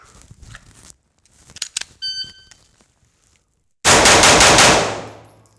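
A Glock pistol fitted with an aftermarket trigger fires a rapid string of loud, sharp shots close by, following a brief electronic beep from a shot timer and some quiet talk, with the blasts ringing out and decaying afterward.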